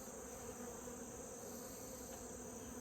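Honey bees hum steadily on a hive frame held up during a mite check, a dense continuous buzz with no pauses, close and even throughout.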